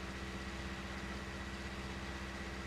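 A 110-horsepower 310 Vario tractor engine runs at a steady, even idle, a continuous low mechanical drone held at close range without any speech.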